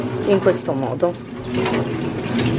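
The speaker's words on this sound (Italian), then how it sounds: "prendiamo la pala di fico e facciamo scorrere l'acqua sopra" Tap water runs steadily over a prickly pear cactus pad at a kitchen sink, a continuous splashing wash heard close up beneath a person talking.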